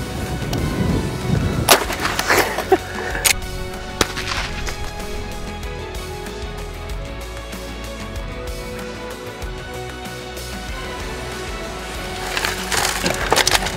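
12-gauge shotgun blasts striking and breaking a target outdoors, several sharp loud cracks with splintering impacts near the start and end, a steady background hiss between them.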